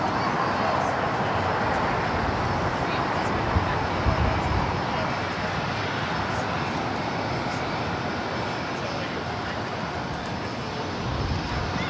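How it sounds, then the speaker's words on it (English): A Korean Air Airbus A380 takes off at Los Angeles airport, producing a continuous broad roar at moderate distance that holds steady throughout, with talk faintly present beneath it. "This is Korean Air Flight 18 Super taking off to Seoul on the A380."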